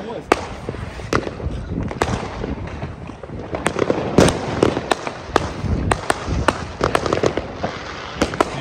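Carbide cannons firing at New Year in Germany: sharp, loud bangs at irregular intervals, some close together, over a constant crackling background with voices at times.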